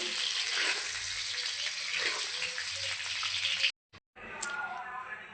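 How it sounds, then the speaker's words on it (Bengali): Ground onion and ginger masala paste hits hot oil in a pan for egg curry, giving a loud, steady hissing sizzle that cuts out abruptly for a moment, then resumes more faintly. "এই তেলে আমি দিয়ে দেব যে মশলাটা করে রাখলাম"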